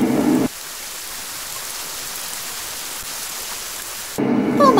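Cartoon rain pours down as a steady hiss of dense droplets, moderately loud and unbroken for several seconds, framed by brief bits of other sound at the start and end.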